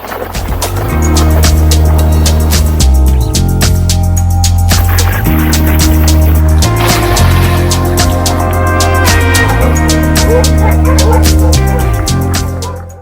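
Sled dog team in Tromsø, Norway, loud and close, with continuous excited barking and yipping from many dogs over a constant rumbling scrape of runners, layered and unbroken throughout.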